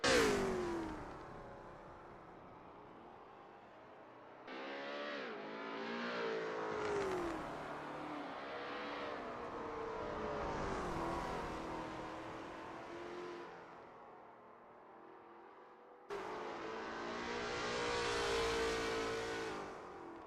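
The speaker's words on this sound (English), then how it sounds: "Wilson is getting to grips with the ASRL T70 MkII Spyder in this practice session" A Lola T70 MkII Spyder race car engine revs and shifts through gears on a practice flying lap at Kyalami in a racing video game, the engine note rising and falling steadily and loudly for the whole stretch, with no talk.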